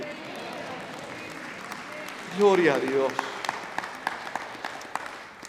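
A church congregation applauds continuously in a large room while a voice exclaims briefly in Spanish over the clapping.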